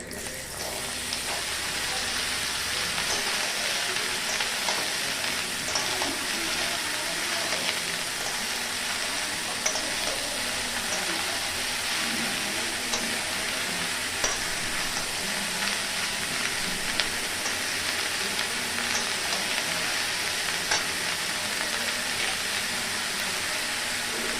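Chopped bottle gourd dropped into a hot pan for lau chingri with prawns, a sudden burst of wet sizzling that keeps up as a steady hiss with occasional light stirring clicks, close and without voices.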